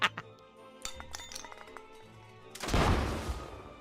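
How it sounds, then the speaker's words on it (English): In MapleStory, flares launched from atop a nearby building go off with a loud bang, a sudden burst of noisy rumble and crackle after a few scattered clinks and game sounds. "flares launched from atop a nearby building light up the sky with a bang"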